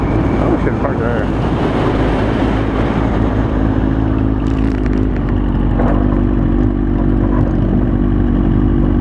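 A 2017 Harley-Davidson Low Rider with a huge 114 cubic inch motor rumbles loud and steady for the whole stretch, a deep continuous engine drone that stays close throughout.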